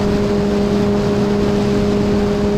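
A Kawasaki Z H2 motorcycle accelerating at half to three-quarter throttle, a loud, steady engine drone mixed with heavy wind roar, close and unbroken throughout.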